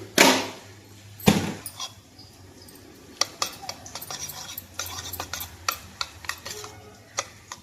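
Eggs being stirred together with chili powder, turmeric and salt for an egg and amaranth leaf fry, heard as a spoon scraping and clinking against a bowl in scattered taps and strokes, with a couple of louder knocks near the start.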